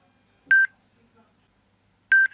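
Two short electronic tones from a SENA SF4 motorcycle Bluetooth intercom as it pairs with a phone, each a clear beep-like chime about one and a half seconds apart in near silence.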